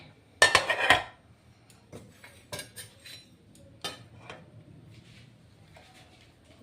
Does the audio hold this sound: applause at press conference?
no